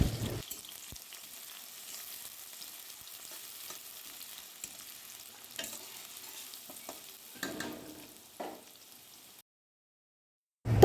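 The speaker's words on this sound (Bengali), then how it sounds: "এবার পেঁয়াজ কুচিটা দিয়ে ভালো করে ভেজে নেব" Chopped onion frying in oil tempered with cumin and dried chili for a jackfruit chicken curry, a soft continuous sizzle with occasional stirring scrapes that stops abruptly near the end, then a brief bump.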